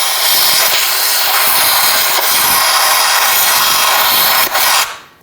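Compressed air blasts steadily into a crankshaft bolt hole on a 2008-2020 Dodge Grand Caravan, a loud, continuous broadband hiss blowing oil out for about five seconds before cutting off abruptly.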